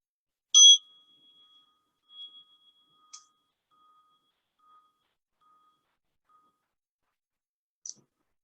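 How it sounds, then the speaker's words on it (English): A soft, clear bell chime rings out and fades, followed by a couple of faint, brief chimes spaced apart in near silence. "when you hear the sound of the bells"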